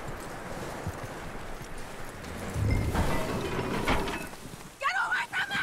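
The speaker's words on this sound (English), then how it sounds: "that looks like a decent horse. You should keep him." Horse hooves clip-clopping in the Red Dead Redemption 2 video game: a run of soft, steady hoofbeats close by, followed by a louder thud and brief rustling near the end.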